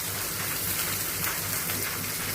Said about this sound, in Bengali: এবার এই তেলের মধ্যে আমি মাছগুলোকে প্রথমে ভেজে নেব।